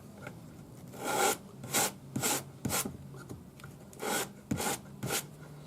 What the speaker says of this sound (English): I'm just using 400 grade paper on my sanding stick.